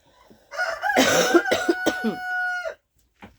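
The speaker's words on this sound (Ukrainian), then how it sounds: "Півні кукурікають." A rooster crows once with a long drawn-out call, close and fairly loud, followed by a brief faint sound.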